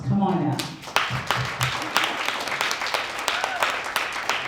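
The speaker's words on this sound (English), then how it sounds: "So you all deserve a round of applause." Film festival audience breaks into applause, with loud scattered claps building into a lively round after a voice finishes speaking, the clapping staying close and uneven to the end.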